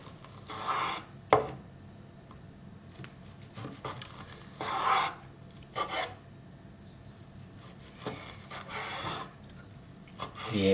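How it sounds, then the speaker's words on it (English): A knife saws through a cooked sirloin steak to cut long slices, with repeated rasping strokes and soft thuds against a board, spaced out over several seconds at close range. "We will make long slices here."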